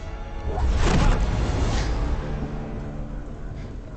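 A train in the video game Star Wars Jedi: Fallen Order comes to a stop with a broad rumbling whoosh that swells quickly, peaks, then slowly settles into a steady low hum.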